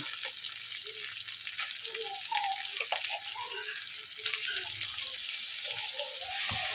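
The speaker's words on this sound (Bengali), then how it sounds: "আদা রসুনের পেস্ট একটু ভাজা হয়ে গেছে" Steady crackling sizzle of ginger garlic paste frying in hot oil, close up, with occasional clinks and scraping of a utensil stirring the pan.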